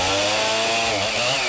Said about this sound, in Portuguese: o tropel da mulada é encoberto pelo som da motosserra.